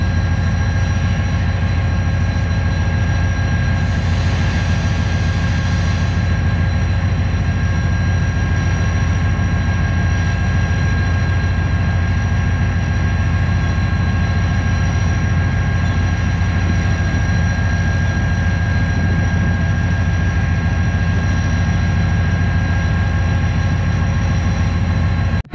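Shalimar Express with an HGMU30 locomotive departing Karachi Cantt railway station, a loud continuous low engine drone with steady tonal whine throughout, near and unbroken, no voices.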